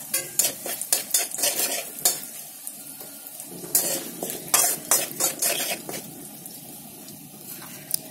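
Cumin and asafoetida sizzle in hot oil while a utensil stirs and clinks against the pan, giving irregular scraping knocks over a constant crackling fry.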